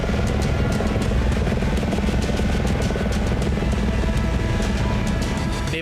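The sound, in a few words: rescue helicopter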